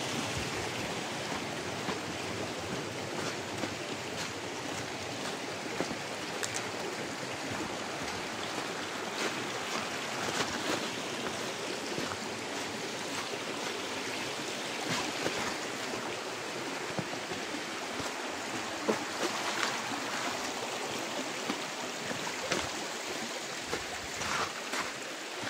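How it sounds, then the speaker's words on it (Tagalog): Steady, dense hiss of heavy rain mixed with rushing water, continuous and fairly loud throughout with no talking. "Ayan ang ulan."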